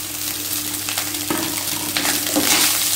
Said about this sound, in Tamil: நல்லா பரட்டிக்கோங்க